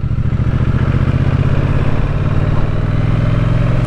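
A 2019 Triumph Bonneville T100 Black motorcycle engine rumbles loudly and continuously while riding, a throbbing, steady drone with clattering mechanical texture close to the microphone.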